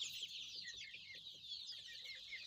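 A 40-day-old Sonali chick, about 600 grams, raised for laying, clucks softly and faintly in short repeated notes over a steady high background hiss.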